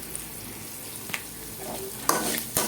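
Chopped onions fry in oil in a pan while being stirred for a pepper egg gravy, a low sizzle broken by a few sharp scraping clacks of the spoon.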